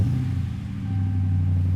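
A Dodge Ram show truck with a MagnaFlow performance exhaust idles with a deep, steady, close-up rumble that swells slightly toward the end, with no talk.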